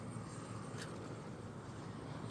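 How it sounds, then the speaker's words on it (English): Large Russian-built Mil helicopter flying low over a road in Chengdu, China, a steady broadband engine and rotor roar heard from a bicycle, continuous and moderately loud with no talk. "And there's a big helicopter there"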